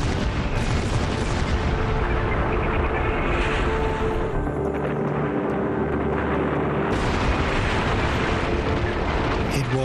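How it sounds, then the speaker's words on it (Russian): Explosive charges blasting open a canal at the Itaipu Dam construction site on the Paraná River, heard as a sustained, dense roar of booming and rumbling that fills the whole span, with a deeper low surge in the middle. "Взрыв был похож на фейерверк."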